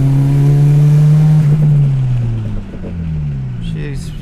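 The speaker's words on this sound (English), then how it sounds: "speedo's working, so I figured I'd do a 3rd gear pull, go from all the way low RPM" A Toyota Starlet engine pulls hard in third gear from very low RPM, a loud droning note that sweeps steadily downward as the car moves away and fades, with a voice speaking briefly near the end.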